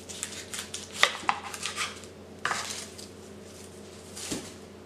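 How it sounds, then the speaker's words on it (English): A knife trims the stem from a garden-grown yellow onion on a cutting board, giving a few soft cuts and light clicks of the blade against the board, close and fairly quiet. "I need to cut off the stem"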